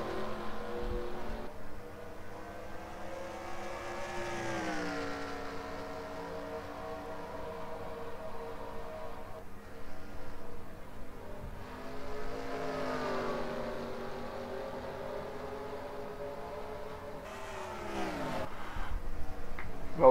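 Stock cars racing in a NASCAR-style video game, Toyota Owners 400, engines droning steadily with pitch sweeps as cars go through turns, loud and continuous without talk.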